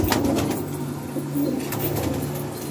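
Pigeons coo in low, repeated throaty calls throughout, close by, over a steady background hum at a bird keeper's loft of fancy breeding pigeons in Jordan.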